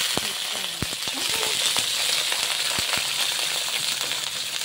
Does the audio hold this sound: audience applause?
no